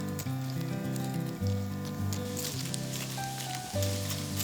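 Seaweed frying in hot oil, a continuous crackling sizzle under steady tonal background music, moderately loud and close throughout.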